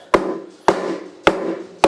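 A hammer pounds a leather baseball glove to break it in, four firm, evenly spaced thumps about half a second apart, each with a short dull ring, close by with no talking.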